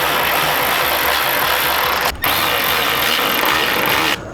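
A ratchet tightening 10mm bolts on a car fender, a steady, close, rapid clicking buzz running almost continuously with two brief pauses, no talk.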